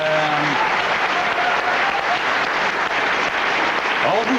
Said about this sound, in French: Une bonne main d'applaudissement pour les gens d'Abitibi-Témiscamingue.